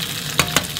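Fish slices sizzle steadily in a frying pan for a crucial chicken-and-carp soup prep, a continuous crackle with two brief louder bursts as the pieces are nudged, close and fairly loud with no talking.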